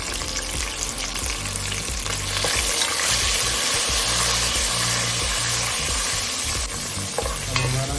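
Whole spices, cardamom and cloves, sizzle loudly in hot oil for nalli nihari, a dense continuous frying crackle close by with the low rumble of the burner underneath and no talking.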